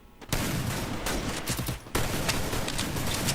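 Dense, loud video game gunfire with sustained automatic bursts, a brief lull, then another heavy volley, with no talking over it.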